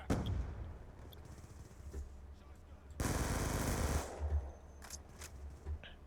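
Gunfire in Call of Duty 4 comes as a dense, rapid automatic burst lasting about a second, among quieter scattered shots and game sounds, with a voice talking.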